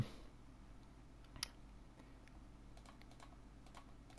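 A computer keyboard clicks softly in a few sparse taps with one sharper keystroke, all faint against a quiet room background.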